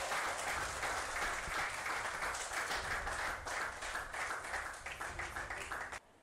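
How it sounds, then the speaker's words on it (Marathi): An audience at a World Health Day 2025 event breaks into dense, sustained applause, many hands clapping loudly and evenly before cutting off abruptly at the end. "पुन्हा एकदा जोरदार टाळ्या पाहिजे"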